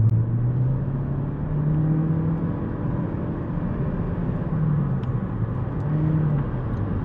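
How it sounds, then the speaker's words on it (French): Toyota Corolla Touring Sports 2025 front-wheel-drive with CVT gearbox accelerating, a steady interior drivetrain drone with a smooth rising whine held at one pitch throughout, moderately loud and continuous with no voices. "on entend un peu la boîte CVT"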